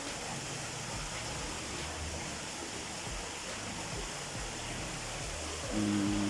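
A waterfall at Waterfall Polofields Crossing shopping centre pours steadily, a dense, even rush of falling water close by, with a low hum creeping in near the end.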